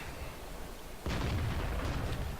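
A World of Tanks tank gun fires a single heavy shot at a chunk of rock, a sudden loud boom that rolls out into a sustained rumbling roar over steady in-game engine noise.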